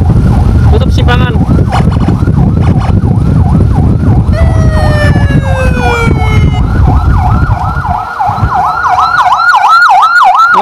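A loud wailing ambulance siren sounds continuously during an emergency escort on a road, its rising and falling tone cycling steadily over a constant vehicle rumble, close and dominant throughout.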